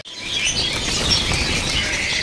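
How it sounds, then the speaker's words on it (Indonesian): A male Japanese tali pocong bird in a cage at a bird-selling kiosk, with a loud, continuous rustle like fluttering wings and scattered faint chirps over background noise. "Ini namanya burung tali pocong ya. Tali pocong Japanese."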